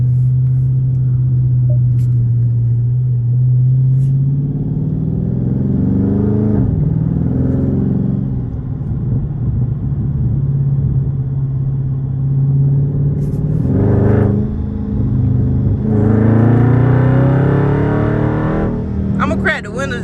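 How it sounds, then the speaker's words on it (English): A Dodge SRT Mopar in track mode rumbles from inside the cabin, a deep steady exhaust drone with several rising rev swells, while people talk over it. "I'm gonna crack the windows just a little bit so y'all can get more of the exhaust sound"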